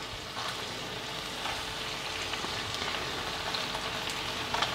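Tomatoes drop into hot oil for chicken karahi, raising a steady, close, hissing sizzle that crackles evenly throughout with no voices.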